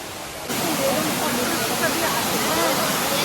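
Elephant Falls in Meghalaya sends out a steady, loud rushing roar of falling water that starts abruptly and continues unbroken.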